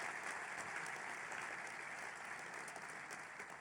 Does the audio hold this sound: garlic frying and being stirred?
no